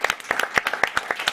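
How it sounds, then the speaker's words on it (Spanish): A few sharp, uneven hand claps from a small live-stream audience late at night, distinct separate smacks in quick irregular succession, close and fairly loud. "un aplauso, carajo, un aplauso"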